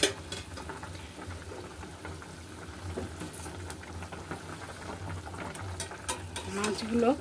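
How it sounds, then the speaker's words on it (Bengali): Mustard-and-poppy-seed tilapia fish curry broth boils in a pot, bubbling quietly with scattered pops and light clinks of stirring, growing a little busier toward the end. "দেখুন আমার ঝোলটা ফুটে এসছে"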